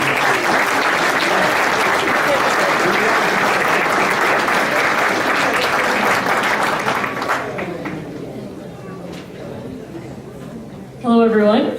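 A seated audience at a multicultural fundraiser applauds loudly and steadily to welcome an Alberta MLA, the clapping fading toward the end before a voice starts speaking near the mic.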